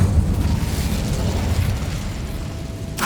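Incendio fire spell cast in Hogwarts Legacy, a loud roaring burst of flame that rumbles steadily and fades, ending with a sharp crackle, no speech over it.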